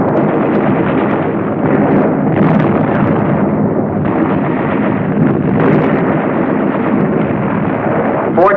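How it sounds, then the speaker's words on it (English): Loud, sustained rumbling blast from a high explosive charge set by an assault engineer to destroy a wartime blockhouse, a dense roar lasting several seconds with bursts and wind-buffeted crackle. "assault engineer knows exactly where to put his high explosive charge in order to destroy the"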